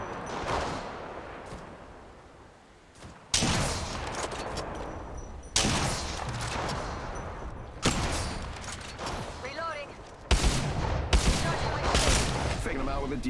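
Gunfire in the Apex Legends video game comes in several abrupt bursts of shots, each loud onset followed by a short decaying tail, with in-game voice lines heard between them.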